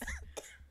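A single sharp cough from a person caught by surprise, one quick harsh burst after a brief throaty sound, fairly close and alone.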